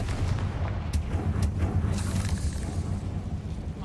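Confringo fire spell blasts in Hogwarts Legacy: a couple of sharp, booming bursts over a steady low rumble, fairly loud and close, with no talking.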